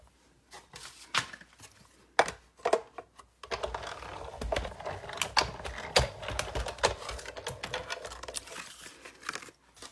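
Scissors snipping paper for small birthday hats: a scattering of sharp crisp cuts and paper rustles, sparse at first and then a denser run of quick close snips.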